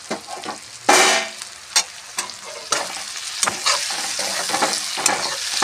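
Cauliflower frying for a crispy green cauliflower fry, stirred as chopped tomato pieces go into the pan with the cooked spices: a steady sizzle with sharp scraping clatters of the spatula, loud and close, no voices.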